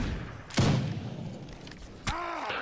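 A ragged musket volley in Mount and Musket, one broad blast near the start and a second sharper report about two seconds later, over a steady battlefield murmur.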